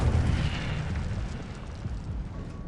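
The Incendio fire spell from Hogwarts Legacy bursts out as a rumbling, whooshing blast, loud at the start and then a sustained roar that slowly eases off.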